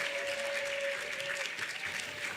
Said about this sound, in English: everyone please join me in a huge round of applause for this year's first Frederick Douglass Awardees